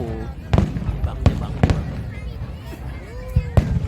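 Fireworks bursting at the Pattaya fireworks festival, sharp distant bangs and crackles in an irregular series while people talk continuously over them.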